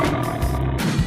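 A tiger roars in a steady, continuous rumble lasting about a second, loud and close, with no talk over it.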